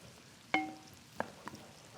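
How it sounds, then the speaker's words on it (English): A spoon stirs a zucchini and Gruyere frittata mixture in a bowl, giving three sharp, ringing clinks against the bowl spaced through an otherwise quiet moment. "So give it a stir."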